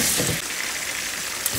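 Aloo gobi vegetables (potatoes and cauliflower) frying in oil in a pan, a steady broadband sizzle with soft crackle throughout, moderately loud and close with no talking.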